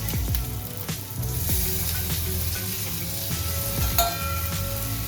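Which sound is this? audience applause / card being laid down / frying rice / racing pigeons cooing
frying rice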